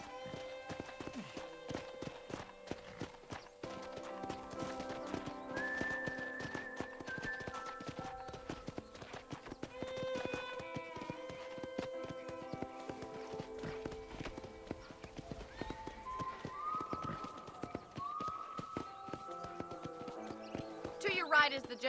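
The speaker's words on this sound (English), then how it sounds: "I picked out a fine horse for you. Giddy up!" Horse hooves clip-clop at a steady walking rhythm in the video game Red Dead Redemption, with occasional snorts under background music and characters talking over the riding.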